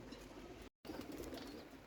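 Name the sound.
pigeons cooing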